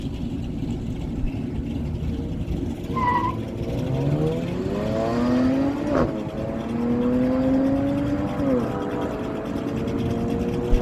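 A Toyota Camry and a 3.6-litre V6 Dodge Challenger launch in a no-prep drag race, engines climbing through rising revs with gear changes, loud and continuous beneath an announcer's commentary.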